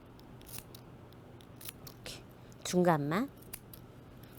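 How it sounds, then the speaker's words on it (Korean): Sharp scissor snips repeat as fabric is cut for sewing, with the clicks coming close and crisp. A short spoken word falls in the middle. "이렇게 가위로 사실 큰 가위로 자르면 더 좋고요"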